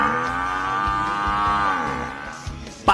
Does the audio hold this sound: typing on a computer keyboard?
no